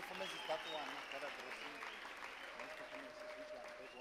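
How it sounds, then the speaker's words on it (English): A church congregation claps hands together at a spiritual birthday celebration, a steady wash of applause that fills the room at moderate loudness, with voices mixed in underneath. "Let's clap hands for Jesus Christ."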